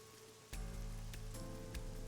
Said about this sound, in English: This rain is awful